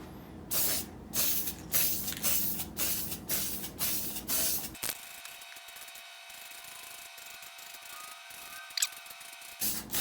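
Gold spray paint hisses from an aerosol can in repeated short bursts as a second coat goes on, then a steadier quieter hiss follows with one faint click near the end.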